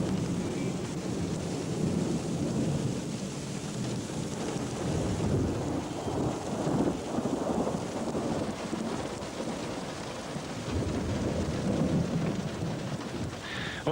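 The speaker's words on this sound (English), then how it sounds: "The heavens open and the rain falls in a vertical torrent." Heavy monsoon downpour with thunder over city streets in Hyderabad, a loud, continuous roar of torrential rain with deep rumbles swelling beneath it for the whole stretch.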